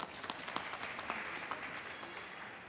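An audience at a literary café event in Conakry claps together in a dense, steady patter of applause for a couple of seconds.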